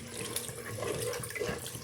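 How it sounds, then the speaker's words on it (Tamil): Water poured into a peanut, dried-fish and brinjal tamarind curry, a brief steady splashing and gurgling stream, fairly faint and close. "இப்போ இந்த அளவுக்கு கிளறி கொடுத்த பிறகு தண்ணியை ஆட் பண்ணிக்கலாம்"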